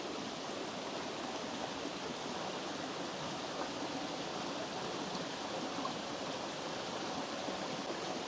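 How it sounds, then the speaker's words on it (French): Steady broadband rush of falling water from the Vaioro waterfall on a hike in Moorea, a continuous even roar with no voices. "en levant les yeux, eh bien, on aperçoit là-haut la cascade"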